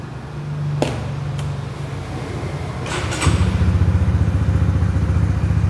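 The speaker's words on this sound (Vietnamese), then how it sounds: "Bây giờ mình nổ máy ha." A 2019 Honda Winner X ABS motorcycle fires up after a few clunks and clicks, then settles into a loud, steady, even idle close by.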